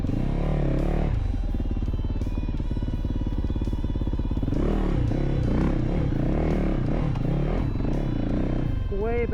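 A 2025 Yamaha YZ450FX dirt bike fitted with a GYTR hydraulic clutch runs loud and close, its engine droning steadily and then revving with rising and falling pitch, while someone talks over it.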